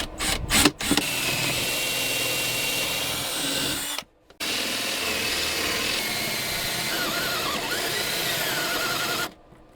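A power drill bores a hole into a propane locker inside a Sprinter van, running steady and loud for several seconds after a few short bursts, with a brief pause midway.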